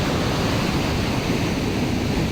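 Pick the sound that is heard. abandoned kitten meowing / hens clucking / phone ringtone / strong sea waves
strong sea waves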